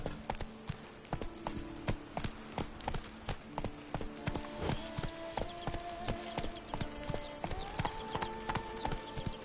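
Roach, the horse in The Witcher 3, trots at a steady rhythm with crisp, regular hoof clip-clops and occasional tack jingles. The sound is close and fairly quiet, with no talk over it.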